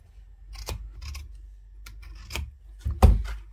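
Scissors cutting a folded fabric pattern piece for a sewn bowl cozy: a few distinct, close snips, each a crisp crunch, irregularly spaced with the loudest cut near the end.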